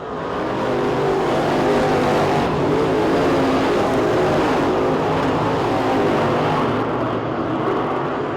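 Several race cars roar steadily around a dirt track during a heat race at the 2021 Winter Nationals, engines droning loudly and continuously with slight swells as cars pass, near the end of the race.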